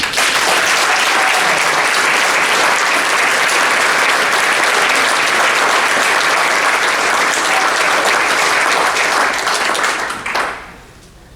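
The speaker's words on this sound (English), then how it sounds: "Everyone please give them a round of applause." A hall of fame ceremony crowd gives a long round of applause, dense and loud clapping that stays even for about ten seconds before tapering off quickly at the end.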